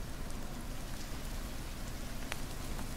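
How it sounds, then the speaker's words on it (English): In The Forest video game, rain falls steadily and evenly, a dense constant hiss with scattered droplet taps and no voices. "It's raining and it's wet."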